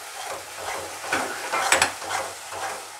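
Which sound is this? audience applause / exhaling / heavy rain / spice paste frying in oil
spice paste frying in oil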